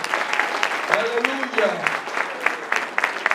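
A church congregation claps in praise, with a burst of sharp, uneven handclaps while a voice speaks over them.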